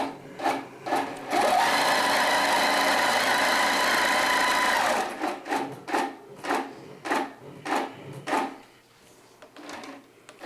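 A long arm quilting machine driven by Pro Stitcher stitches a dog mat, a steady mechanical whir for several seconds followed by a series of rhythmic short bursts and pulses, close and clear with no talking.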